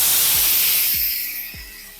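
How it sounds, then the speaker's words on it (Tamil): A ground paste of three small tomatoes is poured into a hot pan for Tamil vatha kulambu. It hits with a loud, sizzling hiss and spray that slowly fades, along with a few soft low thumps. "இப்போ இதில் நான் மூணு தக்காளி சின்ன சைஸ் தக்காளி மூணு அரைச்சி வச்சிருக்கேன் இதை இதில் ஊற்றிடலாம்"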